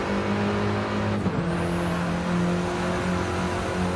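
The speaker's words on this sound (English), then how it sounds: "Look at this drag race" Mini race cars in a sim racing video game snarl along in a drag race, their steady high engine drone holding near and loud with a brief dip and shift partway through.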